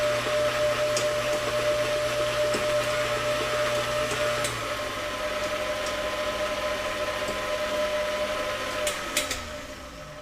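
An electric mixer beats butter and sugar together for homemade banana bread, giving a steady, close motor whir that holds for the whole stretch and eases slightly partway through, with no talking.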